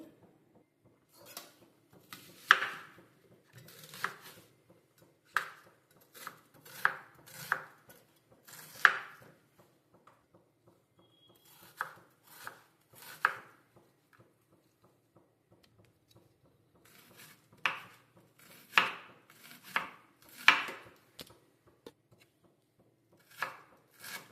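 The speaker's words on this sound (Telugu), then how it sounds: "ఇప్పుడు ఈ ఉల్లిపాయని సన్నగా తరుక్కుందాం పోపులోకి" Quick bursts of a knife finely chopping onion on a board, rapid taps in groups separated by short pauses, close and fairly quiet.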